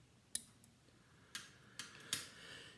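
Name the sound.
scissors cutting away waste thread while tying a fly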